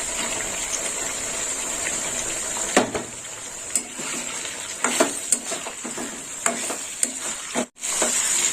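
Tomato tossed into a hot pan for a pointed gourd curry, a steady loud sizzle of frying with scattered clatters and scrapes of stirring, ending on one sharp knock.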